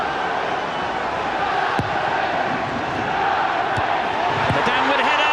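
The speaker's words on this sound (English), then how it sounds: "All the crowd seemed to be shouting handball" A large football crowd at a Premier League match between Manchester United and Arsenal roars and shouts in a dense, sustained wash of noise, with a commentator talking over it.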